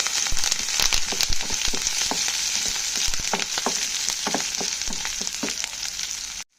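Chili, ginger and curry leaves sizzle and crackle in a pan with spattering pops and a steady frying hiss, heard close up with no voices.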